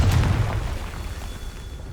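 A Confringo blasting spell exploding in Hogwarts Legacy, one loud low boom that opens the moment and then rumbles away into a fading tail.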